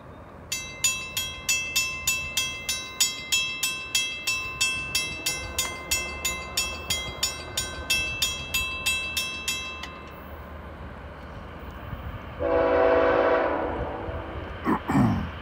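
A southbound freight train with BNSF locomotives approaches a Walton, Kentucky crossing, sounding its horn in a long run of loud, regular pulses before the heavy rumble of cars rolls past nearby.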